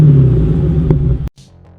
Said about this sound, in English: the sound of V8 engine